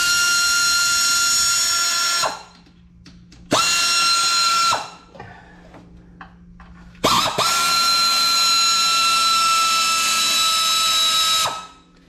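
Power tool spinning out valve cover bolts on a Ford 5.4 two-valve Triton engine: three loud, steady whirring bursts with short ratcheting pauses and gaps of quiet between them, no talking.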